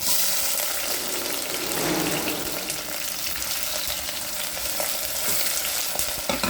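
Chopped green chillies and onions frying in oil for gongura mutton, a continuous dense sizzle, close and even in loudness, with faint stirring and no speech.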